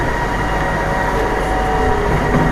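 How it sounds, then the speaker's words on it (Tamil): An LRT train at KL Sentral station in Kuala Lumpur, a loud, close, continuous rumbling drone of the moving railcar with steady mechanical whine. "கூட்டமாக தான் இருக்குது ட்ரெயின்."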